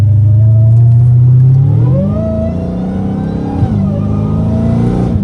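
A catless Dodge Hellcat Redeye supercharged V8 on the street, loud and close, its deep droning idle climbing into a rising rev, settling, then pulling up again.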